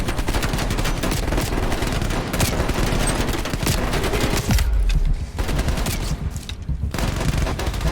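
Sustained gunfire in the Call of Duty Black Ops Cold War campaign, a dense, loud barrage of overlapping shots from several directions, continuous throughout with a brief dip midway, no talking.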